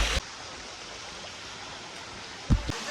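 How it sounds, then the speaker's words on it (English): Rushing water from the top of a waterfall on a Marmaris jeep safari outing, a steady broadband roar with a couple of brief knocks near the end. "We're literally at the top of the waterfall."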